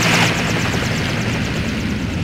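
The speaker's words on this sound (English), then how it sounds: "As they rappel down several helicopters at the demand of Discount Hunk." Several helicopters in the video game Resident Evil Survivor make a loud, steady rotor thump and engine drone that keeps on without a break. No voices are heard.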